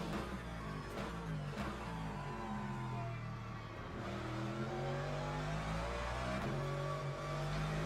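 A prototype race car in Le Mans Ultimate roars steadily at high revs, the engine note shifting as another car sweeps past, a continuous loud drone with no speech.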